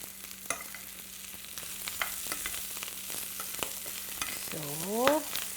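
Mushrooms sizzle and crackle in a hot pan while being stir-fried for japchae, with a steady bed of frying hiss and scattered pops. A brief squeak comes near the end.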